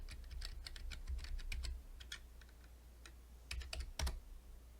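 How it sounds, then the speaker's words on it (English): Password typed on a computer keyboard at a Windows Server 2012 login, close quick bursts of key clicks in two clusters separated by a short pause, fairly quiet with a low hum beneath. "then we type in the password that I just created"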